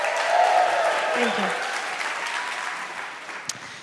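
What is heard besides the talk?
audience applause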